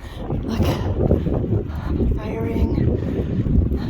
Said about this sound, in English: Just might be a little windy.